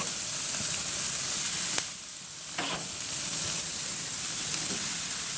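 Chicken thighs sizzle steadily in a hot pan, a continuous bright crackling hiss close by, briefly interrupted by a clatter as pieces are moved.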